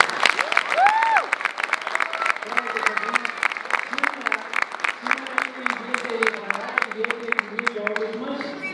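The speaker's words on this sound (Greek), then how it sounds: "και ένα χειροκρότημα για τα παιδιά μας." At a Greek-American school's March 25 celebration, an audience claps for the schoolchildren in quick, fairly regular claps. Prominent voices and chatter carry over the clapping throughout.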